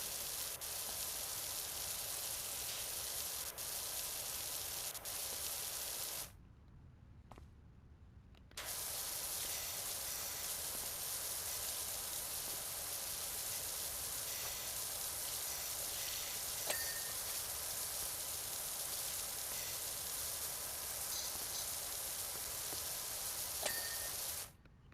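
Steady, continuous hiss of a pressure washer spraying in the Power Wash Simulator video game, running almost unbroken for the whole stretch apart from one brief two-second pause, with no talking over it.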